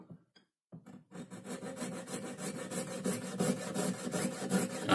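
A jeweler's saw cuts through a gold ring shank in quick, rhythmic rasping strokes, starting after a few light taps and growing steadily louder and faster.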